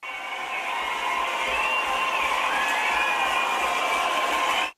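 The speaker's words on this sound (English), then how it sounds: "Crowd goes wild when we leave." A canned crowd-cheering sound effect plays during a show break: a dense, steady roar of many voices at constant loudness, with no talk over it, running for nearly five seconds before cutting off abruptly.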